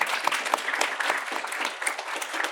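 An audience claps for an Inside Dayton fellow at a final presentations event, a brief burst of moderately close, dense applause with no voices over it.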